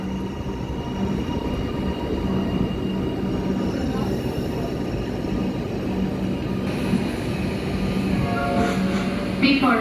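A train arrives at Flinders Street station in Melbourne with a steady rumble and rail noise that holds throughout. A faint squeal comes near the end over a constant station hum.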